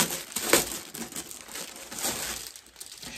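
Packaging crinkles and rustles as a newly bought parcel is unwrapped by hand, a close, steady crackle with a few sharper crunches and no voice.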